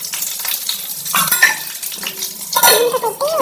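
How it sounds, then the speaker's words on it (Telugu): Eggplants roast in oil in a pan for gutti vankaya curry, with sizzling bursts, a spoon scraping and clinking against the pan in irregular strokes, close and fairly loud. "సో ఇలా వేసుకొని ఆయిల్ మనం రోస్ట్ చేసుకోవాలి."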